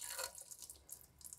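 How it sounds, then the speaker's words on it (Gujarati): Water runs from a tap into a pressure cooker holding raw bananas, a soft, steady splashing stream at low level for a moment, with no talking. "અડધો કલાક જેટલું પાણી એડ કરીશું."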